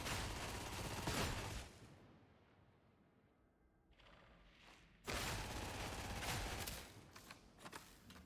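Sustained automatic gunfire from a gun in Warhammer 40K: Darktide, a dense rattling burst that stops for a few seconds, then resumes with more rapid shots.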